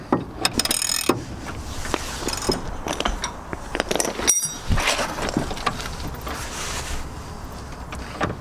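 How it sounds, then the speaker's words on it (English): A long-threaded fitting on a Mazda MX5 coilover is worked loose by hand with a ratcheting tool, producing close, irregular metallic clicks, rattles and scraping turns over several seconds, with no voices. "This one will take you a while to undo just because it's such a long thread on it."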